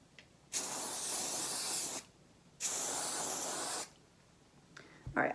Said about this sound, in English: I'm gonna take this and spray.